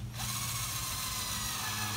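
A power drill starts up and runs steadily, grinding with a constant whir, boring into metal while removing a Jeep TJ manual shifter, close and fairly loud.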